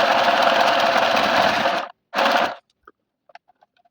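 A sewing machine stitches in a fast, continuous whirring run, stops briefly, runs again for a short burst, then falls silent apart from a few faint clicks.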